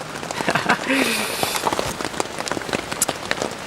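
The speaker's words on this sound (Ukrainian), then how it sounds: "Значить, іде дощ" Rain pattering steadily on a surface outdoors, with scattered sharp drops and crackles over a continuous wash, while someone talks over it.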